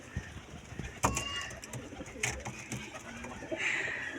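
Fancy pigeons coo softly in a loft or pen, a few low murmuring calls over steady background hiss, with some brief knocks and a short bright chirp near the end.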